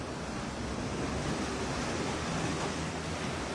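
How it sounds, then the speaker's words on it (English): Rough sea surf at Negril, Jamaica, after a spell of changing weather: a steady, dense wash of breaking waves with some wind rumble, continuous and fairly loud, with no voices. "the water's a little rough because we've had some beautiful, beautiful changes in the weather lately"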